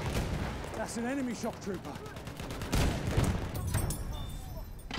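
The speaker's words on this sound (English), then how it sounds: "Enemy machine gun!" Enemy machine gun fire in the Battlefield 1 game on the River Somme map, with rapid repeated shots in bursts under shouted voices, loudest toward the middle of the clip.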